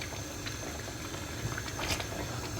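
Pork and potato stew with bell pepper simmers at a steady boil in a covered pot, a soft continuous bubbling and patter held close and fairly quiet throughout, with no voices.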